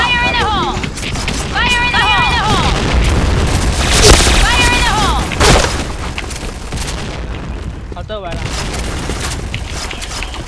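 Loud booming grenade blasts and rapid gunfire fill a busy video game battle, with excited voices talking over the chaos and electronic chimes sounding now and then.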